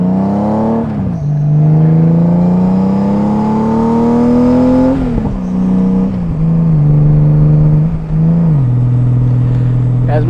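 2019 Honda Goldwing 1833 cc motorcycle with a louder-than-stock exhaust, engine revving in rising sweeps that drop back between pulls, loud and close, with someone talking over it.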